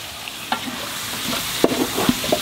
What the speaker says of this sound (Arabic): ونحط الكركم اهم شيء الكركم ونقلب بالقفشه